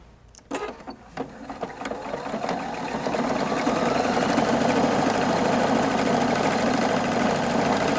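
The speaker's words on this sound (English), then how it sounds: "as it's stitching these patterns out, the pattern will start to go by on the screen" A Husqvarna Viking Opal 690Q sewing machine stitches decorative patterns, starting with a few clicks before settling into a steady, fast, continuous whirring hum that holds close and loud to the end.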